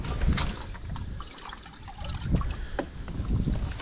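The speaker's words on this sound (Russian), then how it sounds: "Так, пожалуй, немножко воды наберем сразу," Clean water sloshes and trickles as it is scooped into a container holding live catch, with splashy gurgles near the microphone and no talking.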